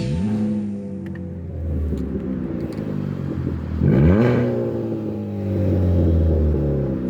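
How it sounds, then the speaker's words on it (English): A sports car engine revs up and down in smooth waves, a deep throaty rumble rising in pitch with each throttle blip, heard through a Midland EH55VP radio speaker, close and loud. "It sounds like a sports car."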